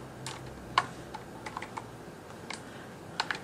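Irregular keystrokes clacking on a MOFII Honey keyboard, scattered taps with pauses between them, close and fairly quiet against a soft background hum.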